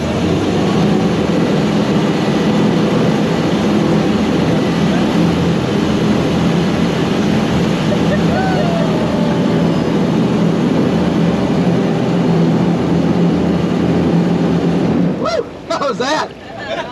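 An amphibious Army Duck tour boat runs at full throttle downstream on the Dells, its engine a loud, steady low roar that holds for about fifteen seconds before cutting off abruptly.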